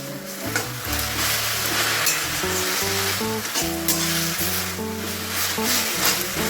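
Leafy greens (village-style katakhure shak) sizzle loudly and steadily in a pan over high gas heat, with stirring scrapes and utensil clinks throughout, no voices.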